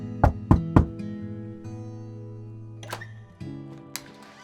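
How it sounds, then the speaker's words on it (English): Three quick, loud knocks on a neighbour's front door, close up, followed by a lingering ringing tone and a couple of softer clicks and thuds, no talking. "watching her excitedly knock on Gabriella's door."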